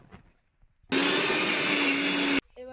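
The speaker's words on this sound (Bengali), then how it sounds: "দিয়ে দিলাম মিক্সি জারে কড়াইশুটি, পেস্ট করে নেব।" Electric mixer grinder blending green peas with a little water into a fine paste, a loud, steady whirring roar that starts abruptly, runs for about a second and a half, then cuts off.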